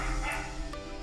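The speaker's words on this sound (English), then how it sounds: "excuse the barking, that's just my neighbor's dog" A neighbor's dog gives a short, bright bark or yip at a moderate distance, heard briefly over a steady background hum.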